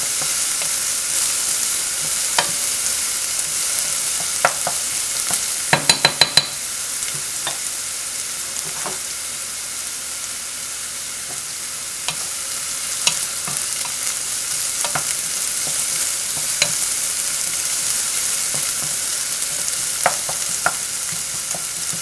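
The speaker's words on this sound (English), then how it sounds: "we have celery and carrots. We need to fry that one a little bit too" Chopped celery and carrots fry for an Italian bolognese sofrito, a steady close crackling sizzle running throughout, with scattered pops and a short burst of sharp clicks partway through.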